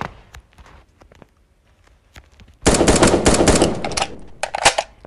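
Rapid gunfire in the online shooter game 1v1.LOL bursts in loud and dense after a few quiet clicks and taps, holding a sustained automatic stream before breaking into shorter bursts.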